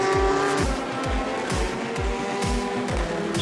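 An FIA WEC endurance race car at the Nurburgring 6 Hours spins after contact, with tire squeal and engine noise over repeated loud engine sweeps of passing cars, steady and dense throughout.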